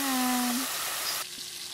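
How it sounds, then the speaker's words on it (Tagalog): Chicken frying submerged in oil in a casserole, a steady bright close sizzle with a brief tonal hum early on, heard without speech. "Palulubugin lang po natin siya sa mantika"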